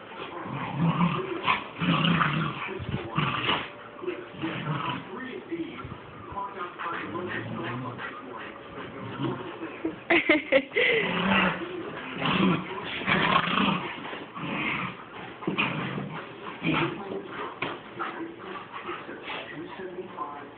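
Puppies growl, yip and whimper continuously while scuffling around in play, with people talking softly under the play.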